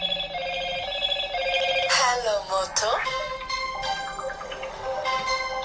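A mobile phone rings with a bright, repeating electronic melody, steady and moderately loud, while a person's voice is heard over it.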